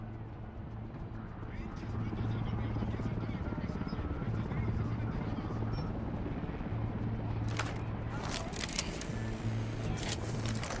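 A surveillance drone in the video game Ghost Recon Wildlands hums with a steady, low, rotor-like buzz, continuous and fairly loud throughout, with a few faint clicks near the end.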